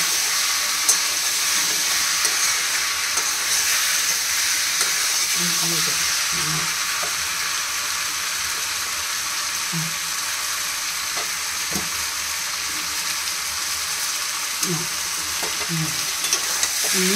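Chicken for a curry sizzles and fries in a wok in a home kitchen, a dense steady hiss with intermittent scraping stirs throughout, while voices talk faintly in the background.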